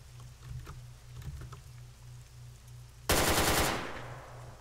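Arma 3 combat gunfire: faint distant shots over a low steady engine drone, then a sudden loud close burst of automatic fire that rings out and decays.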